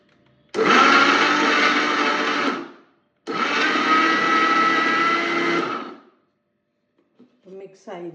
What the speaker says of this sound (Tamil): இப்போ எல்லாம் சேர்த்து நம்ம மிக்ஸ் பண்ணலாம்.